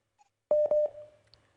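A telephone call connecting during a radio call-in show: a faint blip, then a short burst of loud dial-style tones that ring out and decay, with a small beep near the end.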